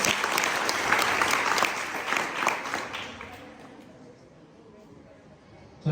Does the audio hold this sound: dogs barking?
no